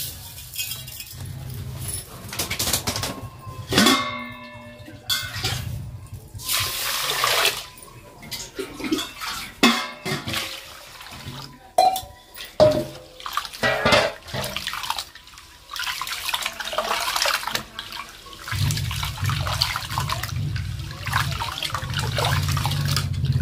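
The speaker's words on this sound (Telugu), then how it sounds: "బియ్యం కడుగుతా" Uncooked rice is washed by hand in water, with continuous sloshing, swirling and trickling alongside clinks of grains and vessel, heard up close with brief voices at times.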